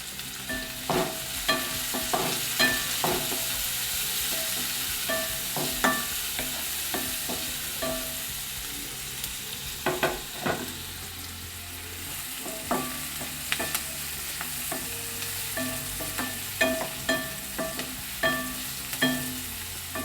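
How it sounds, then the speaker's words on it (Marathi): Onions sizzling in a pan while a spatula scrapes and taps repeatedly, irregular stirring strokes over a steady low fry, close by. "व्यवस्थित परतून घेऊया लालसर परतून घ्यायचं"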